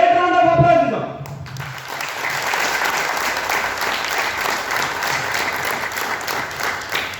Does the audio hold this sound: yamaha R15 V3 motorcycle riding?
no